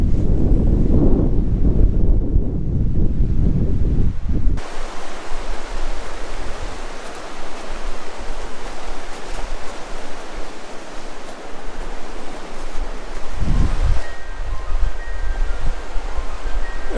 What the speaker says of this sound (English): the speed of the wind clearly shows how cold it could get